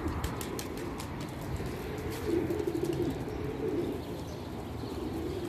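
Pigeons coo steadily in a pigeon loft, several soft, low, overlapping calls with faint chirps above them and a bit of wing flutter; no one speaks.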